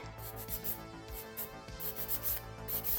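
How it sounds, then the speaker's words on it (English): A nail file rasps back and forth across a polygel nail in quick, even strokes, a close, soft scratching repeated steadily over a faint musical background. "I'm just going to file it down a little bit"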